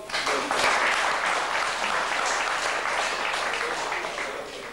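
Crowd at a motorsport rally event applauds, a full burst of clapping that swells quickly and then slowly thins toward the end.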